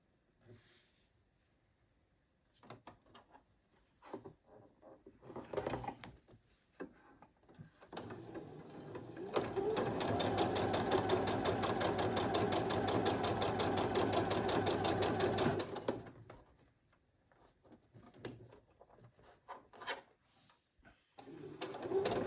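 A sewing machine chain-piecing quilt pieces, a steady mechanical stitching hum running for several seconds in the middle, closely miked, with quieter handling noises and intermittent stops before and after.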